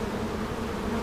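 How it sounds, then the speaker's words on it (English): Honeybees buzz on a hive frame catching the afternoon sun, a close, steady droning hum with no talking. "This frame seems to have the most bees, since it's on the right side,"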